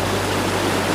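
Water pours down a step-down water feature that spirals as it descends on Prince Edward Island, giving a steady, dense rushing hiss that stays constant and fairly loud throughout.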